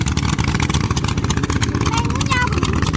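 A farm vehicle revs hard at full throttle while churning through a muddy paddy field, its engine roaring loudly and continuously up close with a choppy, pulsing texture.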